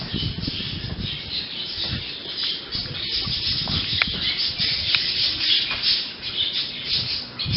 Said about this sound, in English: Can you hear the birds squealing?